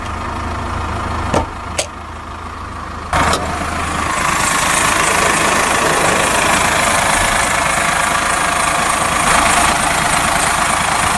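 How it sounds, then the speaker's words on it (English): A 2009 Subaru Impreza's 2-litre turbo boxer diesel engine idles steadily with a low, continuous rumble and faint knocking, preceded by a few short clicks and thumps. "The engine is a 2-litre turbo boxer diesel."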